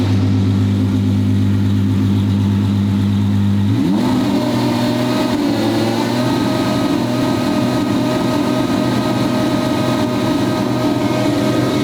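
A twin-turbo V12 Ferrari engine idles with a deep steady drone, then revs up sharply and holds a loud, rising roar with whistling turbo spool layered over it, close and continuous.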